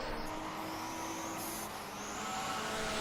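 Race cars from a 1970s/80s Group 5 championship cross the finish line at Zandvoort, a steady engine roar with a faint rising whine as a car passes, heard from a distance.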